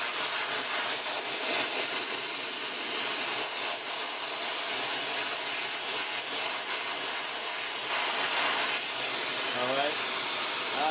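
A torch hisses steadily and loudly while heating two parts for silver soldering, a broad continuous roar held throughout, with a brief squeal near the end.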